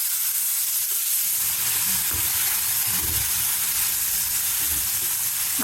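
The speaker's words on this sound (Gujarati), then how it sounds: "રાઈ જીરુંનો વઘાર કરીને મેં આમાં એક દીધી છે મેથી" Steady, close sizzling of fenugreek seeds with mustard and cumin frying in hot oil, a continuous crackling hiss with soft stirring underneath and no voices.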